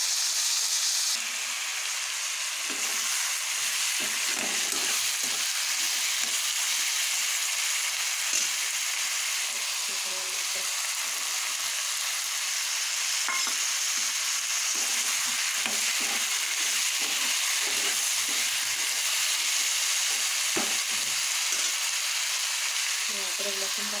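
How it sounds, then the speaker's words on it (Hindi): Carrot vegetable fried in a pan with steady, close sizzling throughout, broken by repeated scraping and stirring strokes of a spoon against the pan. "इसको 2 मिनट भूजेंगे"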